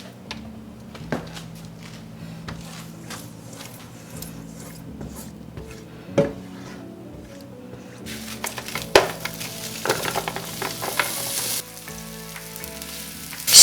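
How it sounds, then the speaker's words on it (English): Beef short ribs and torn cabbage fry in cooking oil in a pan, a steady close sizzle with occasional spatula clinks as they are stirred, growing louder and crackling near the end, over soft background music. "Stir it until golden brown."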